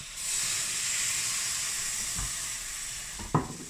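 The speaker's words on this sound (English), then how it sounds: "I'm going to deglaze that with the white wine." White wine hits a hot pan while deglazing for a white fish stock, giving a sustained sizzling hiss of steam, with a couple of brief clatters near the end.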